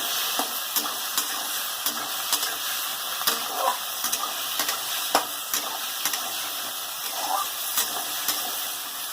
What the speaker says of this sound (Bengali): আমার দেখো একটু ভাজা ভাজা করে নিয়েছি